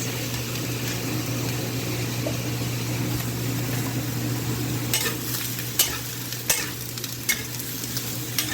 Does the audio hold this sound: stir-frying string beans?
yes